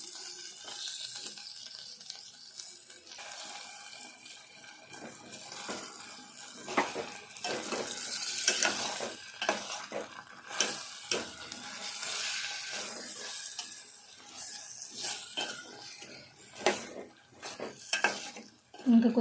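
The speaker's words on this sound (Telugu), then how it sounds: "ఈ ముక్కలన్నీ వేగాలి. ఇవన్నీ మంచిగా వేగాలి." Potato pieces frying in a pan for aloo biryani, with a soft, steady sizzle and scattered clinks and scrapes of a spoon stirring against the metal, mostly quiet and close.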